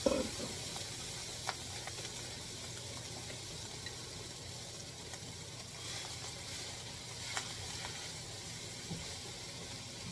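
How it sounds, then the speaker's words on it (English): Pineapple and shrimp fried rice sizzling and hissing in hot oil, a steady broad crackle that runs the whole time, moderately faint, with a fan droning underneath and the odd clink of a utensil. "You put it in there with your oil and keep it moving."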